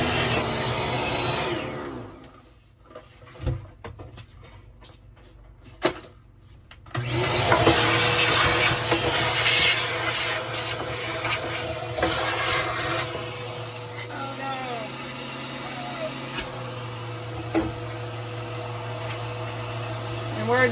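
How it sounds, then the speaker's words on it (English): A vacuum cleaner sucks lint out of a dryer vent hose, its motor whining and roaring in long stretches, with a pause of scraping and knocking partway through and pitch shifts as the nozzle moves through the hose. "You gotta vacuum this stuff out. Otherwise, it will never get out of your hose system."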